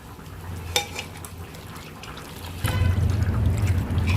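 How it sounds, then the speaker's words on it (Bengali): Mutton being mixed by hand with mustard oil, spices and a little sugar; soft, wet squelching and sloshing with a couple of sharper clicks, growing louder and denser in the second half, with no talking. "এবার মা এটাকে ভালো করে হাত দিয়ে মেখে নেবে।"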